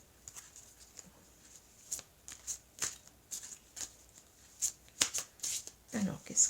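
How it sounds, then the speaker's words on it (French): Oracle cards from an angel-themed deck being shuffled by hand nearby, a run of quick soft riffling flicks in a loose rhythm, growing busier toward the end, with no voices. "je vais prendre 2 cartes ici de l'oracle"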